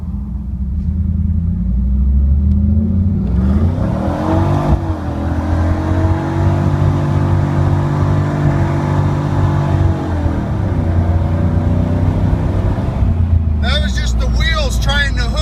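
A 1994 Pontiac Firebird Trans Am idles with a deep rumble, then pulls out and accelerates hard, engine note rising and holding loud and close before settling, with talk over parts of it.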